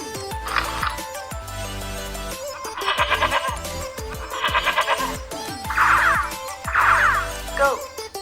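Goats bleating in a series of loud, close, wavering calls, each about a second long, several spaced through the stretch with short gaps between them.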